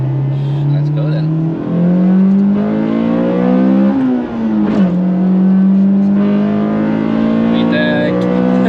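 A Honda Civic Type R EK9 with about 320,000 km on it revs hard at the Nürburgring, its engine note climbing steadily and shifting pitch as it pulls toward the VTEC range, loud and continuous with voices underneath.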